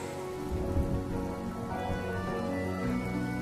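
Steady rain falls in a video game, a dense, even hiss of drops on surfaces that holds at a constant level throughout, with no voices.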